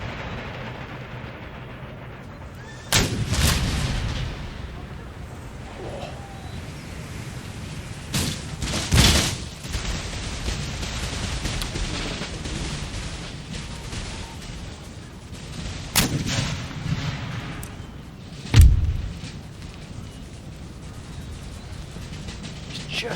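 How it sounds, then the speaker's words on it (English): Booming artillery volleys ring out in a Napoleonic-era battle in the video game Empire: Total War, with several deep blasts at irregular intervals over a constant low battlefield rumble, and a faint voice in the background. "stay out of the range of that artillery"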